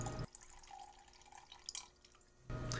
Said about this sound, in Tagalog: I-drain lang natin yung marinade nito para magisa natin ng maayos.